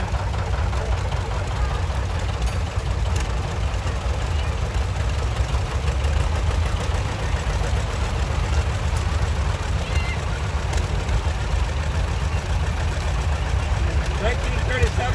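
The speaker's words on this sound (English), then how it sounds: "Next, we have a 1960 John Deere 750B owned by Leroy Martin from Morgantown." A 1960 John Deere 750B tractor in a farm parade, its engine chugging steadily at close range in a continuous, loud rumble while voices speak over it.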